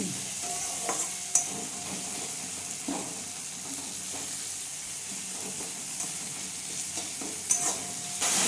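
Onion and garlic fry for ghugni, a steady close hissing sizzle with occasional scraping stirs and small pops, no talking.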